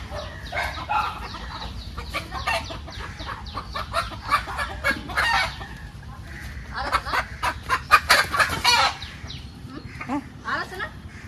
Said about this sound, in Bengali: মোরগ দশটা মুরগি কিনেছি